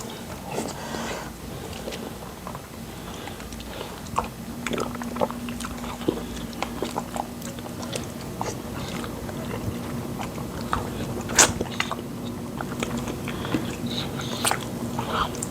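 A couple eating fufu with soup at home, with soft, close chewing and mouth sounds, small scattered clicks and bites running steadily at a low level.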